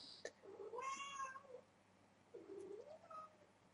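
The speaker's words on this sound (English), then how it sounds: "that you will hear my cat." A cat gives two drawn-out meows, a rising one followed by a lower wavering one, fairly close in a quiet room.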